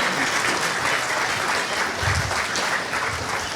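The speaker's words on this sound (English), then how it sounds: "Let's give a big round of applause for the Shivanandam class." Steady applause from an audience at a school annual day event, greeting a class of students; a dense, continuous clapping that fills the whole moment with no talk over it.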